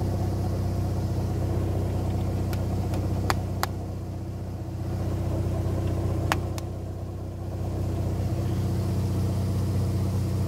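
A Mazda RX-7 FC rotary engine idles at about 950 rpm while warming up, running slightly rich with the fan unplugged. It makes a steady, close, low rumbling drone with no voices.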